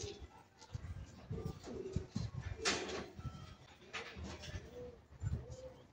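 Young pigeons coo softly in a loft, with several low, rolling coos repeated close by against quiet background rustling and faint knocks.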